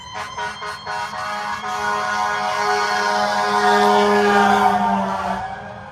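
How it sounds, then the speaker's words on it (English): A fire truck siren wails as the truck comes up from behind on a street in Waukesha, Wisconsin, opening with several short horn blasts, then a loud sustained siren and air horn that swell as it nears. "There's a fire truck coming up behind us."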